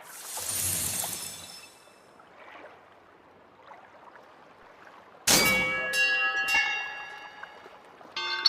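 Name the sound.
ferry bell ringing in video game Living Legends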